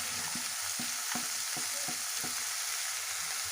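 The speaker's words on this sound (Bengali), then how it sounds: "ভালোভাবে এটাকে নাড়াতে থাকবো" Banana flower chop mixture with peas and nuts being stirred as it fries in a pan, a steady sizzle under repeated scraping strokes of the spoon, close and moderately loud, with no voices.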